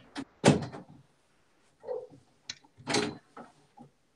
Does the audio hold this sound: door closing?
yes